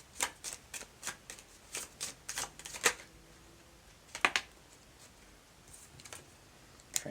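Tarot cards are shuffled by hand in a quiet room, bursts of crisp riffling and sharp slaps in uneven clusters, close and fairly soft, with pauses between runs.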